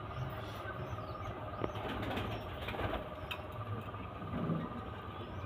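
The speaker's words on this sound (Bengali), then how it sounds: "এই এক পেয়ার কামাগার পায়রা দেখুন" A pair of Kamagar pigeons shuffle and flap inside a cage, giving a few short bursts of wing flutter and soft movement over a low background hum, fairly close, with no talking.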